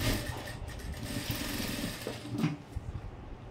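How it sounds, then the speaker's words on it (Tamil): A sewing machine runs in a fast, steady rattling stitch through blouse fabric, close and continuous, with a short pause and restart near the end. "ஒரு தையல் போட்டுட்டேன், 2வது தையலும் போட்டுடுறேன்."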